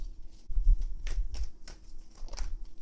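Soft, irregular papery riffling and light taps of tarot cards being shuffled, close and quiet, with a few sharper flicks.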